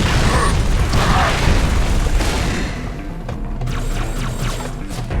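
A grenade explosion in a Halo game, a loud deep boom with crashing debris that rumbles and slowly fades over a few seconds, followed by a quieter mechanical clatter.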